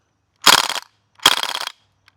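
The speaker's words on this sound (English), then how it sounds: "It stopped like shooting BBs" A VFC PPSh gas blowback airsoft rifle fires two loud, rapid full-auto bursts of BBs, each about a third of a second long, separated by a brief pause, with no talk.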